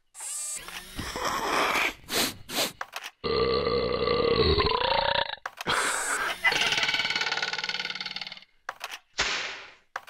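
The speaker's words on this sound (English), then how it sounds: "The one with the long wet belch was awesome." A long wet belch sound effect plays in a Jackbox party video game, stretching over several seconds with a gurgly, drawn-out tone, amid short bursts of other effects and people reacting in the room.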